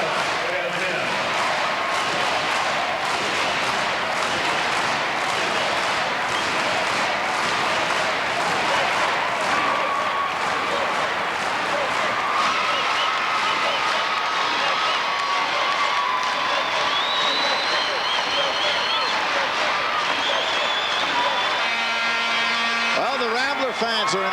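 Loyola Academy fans at a 1997 girls high school basketball state championship game applaud and cheer, a steady crowd roar with shouts and whistles, under ongoing commentary.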